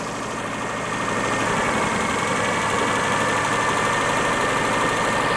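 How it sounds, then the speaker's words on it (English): A Daihatsu Charade engine idles high after a cold start, a steady mid-pitched hum with a slight vibration that swells a little after the first second and then holds even and constant. "She's idling quite high."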